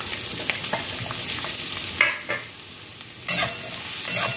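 Green chillies and roasted peanuts fry in a pan with a steady sizzle, broken by several sharp stirring scrapes and clatters, close and with no talking.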